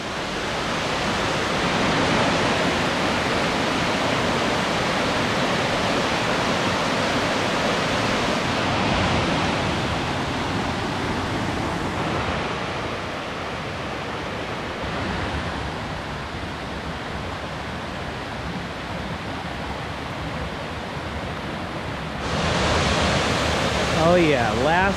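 A waterfall on the Falls Trail at Ricketts Glen, Pennsylvania, roars in a steady, loud broadband rush that fills the whole scene, with hikers' voices faintly mixed in.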